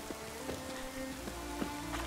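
Rain patters steadily in the video game The Witcher 3, set on the isles of Skellige, a dense soft hiss with scattered distinct droplet taps and no talking.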